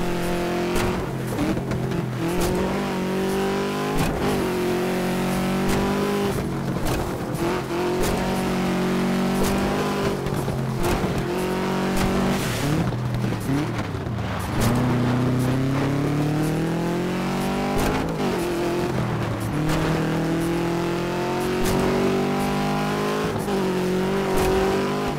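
Subaru rally car engine in the racing video game Dirt 2, a steady loud drone rising and falling as it revs through gears for the whole stretch, with a couple of brief shifts and dips, no talking.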